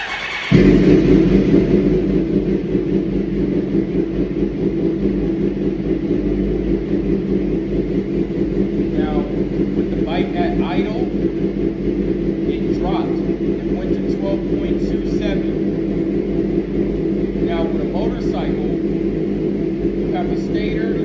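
A Suzuki motorcycle engine idles just after being switched on, a steady low rumble holding for the whole stretch with a faint ticking layer on top and voices talking now and then over it.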